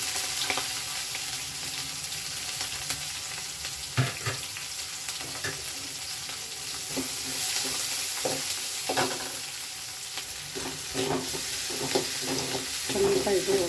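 Onions, curry leaves and green chillies fry in a pan for a spinach palak gravy, a soft steady sizzle broken by scattered scraping stirs of a spoon.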